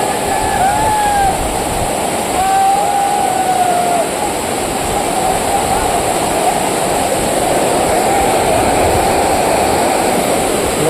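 A waterfall found along a trip roars as steady, broadband rushing water close by, continuous and loud throughout with no talk.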